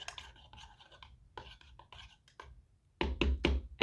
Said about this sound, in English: I'm going to go ahead and give this a quick stir